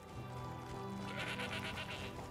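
A goat bleats in a desert survival video game, a wavering, nasal cry in the middle of the clip over steady low game ambience and background music.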